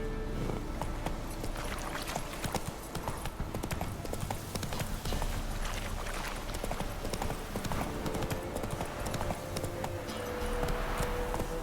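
Roach the horse gallops in The Witcher 3, hooves pounding in a fast, steady clip-clop rhythm that runs continuously over a bed of ambient game sound.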